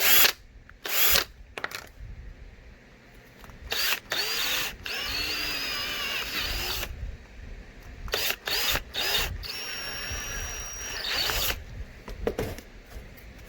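Power drill running a countersink bit into wood, several short whirring bursts that rise in pitch between quiet pauses, with small handling clicks in the gaps.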